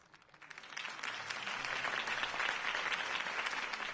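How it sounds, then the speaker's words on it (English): A crowd applauds after a political campaign speech in a Batman game set in Gotham, with dense clapping that swells in over the first second and then holds steady, moderately distant and fairly quiet. "If only Mr. Wayne, my campaign's largest backer, could have heard that applause"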